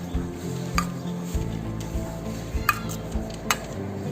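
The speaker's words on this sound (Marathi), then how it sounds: "आता हे व्यवस्थित मिक्स करून घेते।" A spoon mixes a chopped vegetable salad with green chilli and squeezed lemon in a bowl, making soft repeated scraping and light clinks against the dish, close and fairly quiet over a steady background hum.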